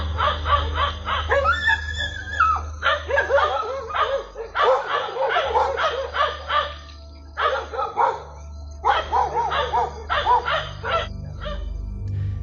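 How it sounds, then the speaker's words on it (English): Dogs bark in repeated rapid bursts at a doorbell camera, the volleys close and loud and separated by brief pauses. "The canines don't cease even when the figure disappears."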